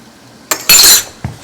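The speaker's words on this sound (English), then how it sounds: "Let's stir this up nice and mix that into this" Spoon stirring salt, pepper and Herbes de Provence into onions in a pot for French onion soup: a short clink, a burst of scraping and rustling for about a third of a second, then one more soft knock.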